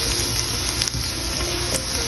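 Garlic sizzles in hot oil for a stir-fried chicken dish, a steady close frying hiss that runs without a break, with a few soft stirring clicks and no voices.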